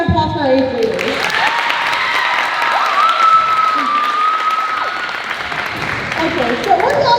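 A show choir cabaret audience gives a big round of applause and cheers for 8th graders, sustained crowd clapping with a whistle-like tone and voices mixed in.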